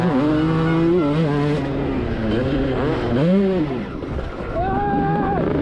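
Big two-stroke motocross bikes, including a Kawasaki KX and a Honda CR500, race at a vintage event, engines wailing loud and close with rising and falling revs as they accelerate past the finish line.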